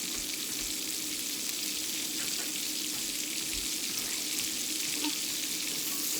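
Diced radishes frying in hot bacon grease, a steady faint crackling sizzle with a few soft pops, continuous throughout.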